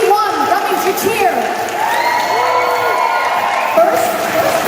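A convention crowd cheers, whistles and claps for a cosplay contest winner, a loud dense roar over an announcer's voice.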